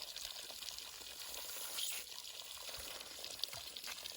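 Water rushes steadily from a hose while watering raspberries, with a constant hissing spray and occasional splashes, close by.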